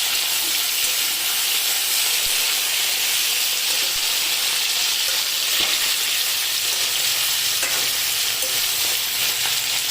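Potatoes fry crisp in a hot pan while being stirred, a loud, close, steady sizzle and hiss with occasional scraping knocks from the stirring.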